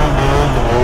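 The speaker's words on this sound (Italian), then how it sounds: "Pizzica, frena forte questo motore" A scooter engine with a booster, revving hard and loud at close range, a continuous buzzing roar with steady tone through the short burst.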